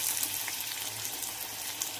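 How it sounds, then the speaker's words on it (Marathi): Finely chopped onion fries in hot oil in a kadai for chicken kheema, a steady, hissing sizzle with faint crackle that holds evenly throughout, close up and with no talking. "आता मी तेलामध्ये बारीक चिरलेला कांदा टाकून घेते"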